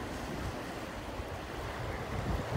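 Calm Black Sea surf in Sochi on a windy day with small whitecaps, heard as a steady, even wash of waves with gentle wind noise, broad and continuous, with no voices.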